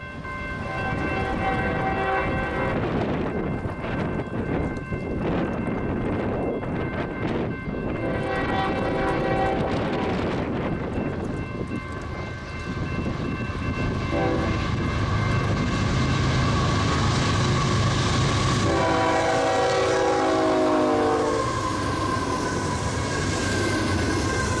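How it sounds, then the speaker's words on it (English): A Union Pacific manifest freight led by a UP ES44AC locomotive with trailing NS units rolls past in northern Illinois. Its loud, steady rumble and wheel noise continue throughout, broken by several sustained horn blasts. "That train happened to be MNPAH, passing at about 1:30 p.m. with a UP ES44AC in the lead of a couple trailing NS units."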